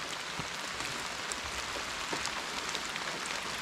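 Rain falls on a truck campsite in a continuous broadband patter, drops tapping close by on surfaces, steady throughout and free of speech.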